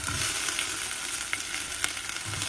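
Chopped onion going into a hot pan for a Konkani radish stir-fry, giving a dense, bright sizzle and crackle that holds steady throughout, with faint stirring scrapes and no talking.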